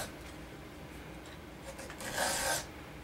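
Hand file rasping across the teeth of a chainsaw chain during sharpening, a faint scraping under background hiss that builds to a louder, brighter stroke near the end.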